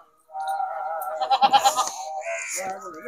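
Goat bleating close by, a long wavering bleat with a trembling middle section followed by a shorter cry, loud and clear against a quiet background.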